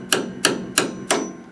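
A hammer strikes a drift punch set on a leaf spring bolt of a first-generation Camaro, four sharp metallic blows at an even, unhurried pace, close and loud with no talking.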